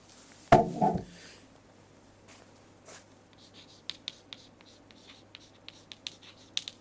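Handwriting as an ANOVA table is filled in: a loud knock near the start, then faint, scattered scratchy ticks of writing in a quiet room.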